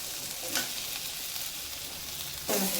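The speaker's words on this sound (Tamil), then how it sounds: "தக்காளி நல்லா வதங்கிடுச்சு" Tomatoes sautéing in a pan for a coconut curry, a steady broadband sizzle throughout with two brief louder stirring scrapes near the start and end, no talking.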